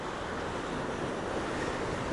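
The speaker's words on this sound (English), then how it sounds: "This is on the open ocean, so you can see some really nice waves" Open-ocean surf rolling onto a sandy beach at a bay nature park on a very windy day, a continuous loud wash of breaking waves mixed with wind rumble on the microphone.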